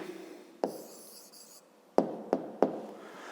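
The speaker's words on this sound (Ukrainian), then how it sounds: "пишемо тоді відповідь" Hand-written answer to a fifth-grade maths exercise: quiet scratching of a pen on paper, broken by a few sharp taps and knocks, close and faint in a still room.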